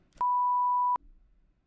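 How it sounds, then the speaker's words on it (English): A single steady electronic voicemail beep at a constant pitch lasts about three quarters of a second, loud and clean, followed by a faint rustle. "Please leave a message after the beep."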